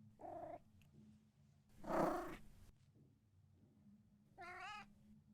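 A cat named Taft gives a short meow, then a louder, rougher yowl, and after a pause a final drawn-out meow. A soft low purr hums beneath all three in a quiet room.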